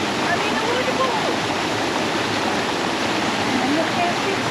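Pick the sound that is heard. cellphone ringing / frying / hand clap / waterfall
waterfall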